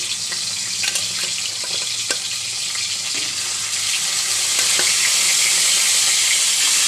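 Mrigal fish fry in hot oil in a home kitchen, giving a steady bright sizzle with occasional sharp crackles and pops that builds a little louder toward the end.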